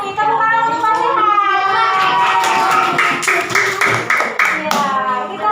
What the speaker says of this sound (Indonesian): Tepuk tangan untuk Mas Sehat